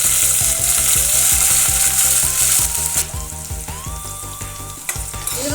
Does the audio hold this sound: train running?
no